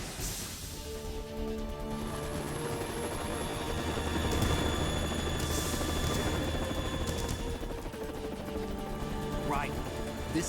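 Kasatka helicopter from Metal Gear Solid 2 keeps up a steady, loud rotor drone with a whining engine tone for the whole stretch, staying close and constant without letting up.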